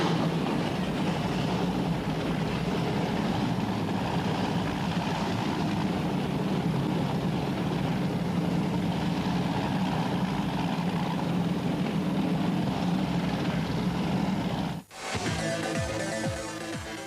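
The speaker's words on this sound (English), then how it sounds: "Gentlemen, start your engine." Racing powerboat engines from the 1998 Biloxi world championship drone loudly and steadily, with a broad engine roar that holds for about fifteen seconds before abruptly cutting to a sharper, higher whine.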